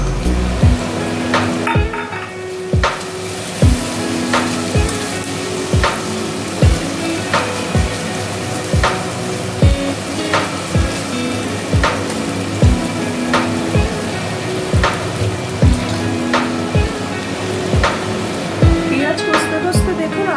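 Ginger, garlic and green chili paste sizzling in a pan with fried meat and onions, a steady frying hiss with regular stirring clinks throughout, while a person talks.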